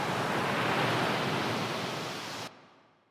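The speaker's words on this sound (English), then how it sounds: "So here I've got the sound of a wave crashing" An ocean wave crashes in one long, loud rush of broad hiss, then cuts off sharply and leaves a faint fading tail.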